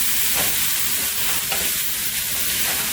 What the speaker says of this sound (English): then we'll add the potato to here. And we're going to give that a good mix